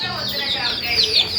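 Chickens cluck and chirp in a village setting, a steady mix of bird calls throughout with background noise.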